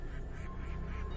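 Duck quacking in the horror video game Anatidaephobia, a faint nasal quacking drifting over a steady, dense background drone with no talking.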